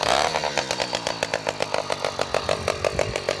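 A stationary motorcycle (motorizada) revs hard through a loud, open exhaust pipe, a close, raw and rapidly pulsing engine roar held at high revs for a few seconds with no talking.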